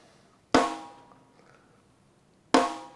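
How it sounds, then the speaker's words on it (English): Two sharp hits on a stock, untuned Rogers snare drum about two seconds apart, each with a bright crack and a ringing decay, played alone in a quiet room. "Apparently it's a Rogers snare."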